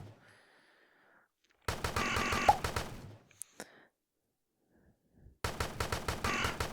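Bursts of rapid gunfire from shooting bunnies in the VR game Nighttime Terror, two loud sustained volleys separated by a quiet gap with a couple of isolated shots between.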